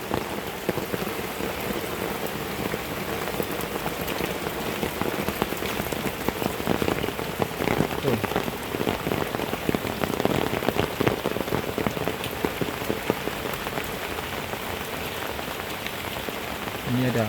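Heavy afternoon rain in the countryside near a goat pen, with strong wind, a dense constant patter and splash on surfaces that holds steady throughout.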